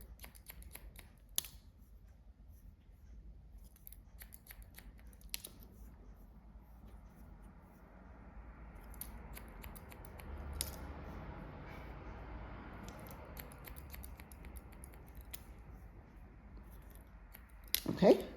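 Scissors snipping hair during a bob haircut, a series of sharp, close clicks and snips scattered across the clip, over a faint background hiss with quiet handling sounds.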